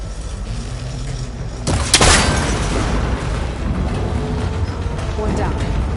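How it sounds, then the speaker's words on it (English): A cable connector on an ancient tower is shot and snaps apart in Horizon Forbidden West, a sharp metallic burst and boom midway through over ongoing game ambience and music. "It should break if I shoot it."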